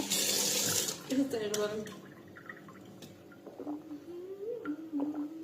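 Water runs from a kitchen tap, a loud splashing stream at the start that gives way to quieter trickling and drips, while a person talks over the later part.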